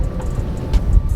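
Toyota Agya car accelerating after coming down from a flyover, a steady low engine and road rumble heard from inside the cabin with no talk.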